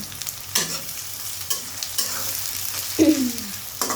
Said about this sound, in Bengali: এখন আমি পেঁয়াজটাকে একটু লাল লাল করে ভেজে নিব, হালকা বাদামি করে ভেজে নেব।